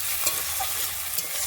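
Meat cooked with chopped tomato sizzles and fries in a pan while being stirred, a steady hiss broken by a few scraping stirs, close and alone with no talking.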